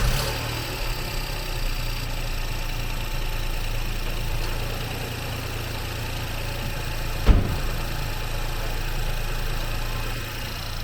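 A car engine starts and settles into a steady, close idle after a wet timing belt replacement, a single brief knock near the start before the even running continues alone.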